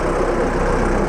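John Deere 4520 tractor engine idling on a farm, a brief steady low diesel rumble, close and even, with no talk.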